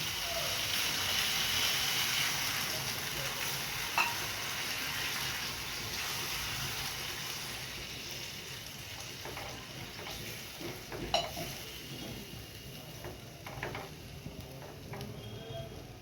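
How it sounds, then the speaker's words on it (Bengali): Water poured into a pan of sautéed spiced potato and egg omelette curry, a steady hissing sizzle at first that gradually settles, with a couple of sharp utensil clinks, no talking. "এবার আমি জল দিয়ে দেবো"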